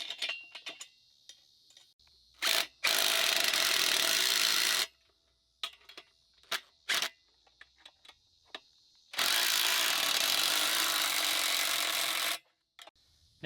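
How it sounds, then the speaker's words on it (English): M12 bolts fasten a trailer tongue to the hitch coupler of a Woodland Mills HM 130 Max sawmill trailer. Two long bursts of power-tool whirring stand out among scattered ticks, clicks and light taps, with no talking. "we're gonna take our tongue, bolt it to the hitch coupler with 2 of these"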